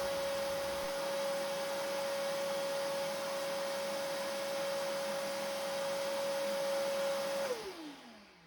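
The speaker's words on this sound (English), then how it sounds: "I vacuum the wood dust before flipping the cubby over." A vacuum cleaner sucking wood dust off a wooden cubby drones loud and steady at close range, then its motor winds down as it switches off at the end.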